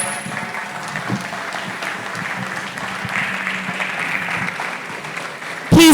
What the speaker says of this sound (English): A very big round of applause for the Executive Governor of Lagos State.